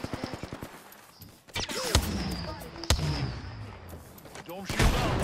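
Gunfire in the video game Apex Legends, with a rapid burst of shots at the start followed by louder sharp reports and sustained weapon noise, while a player talks over it.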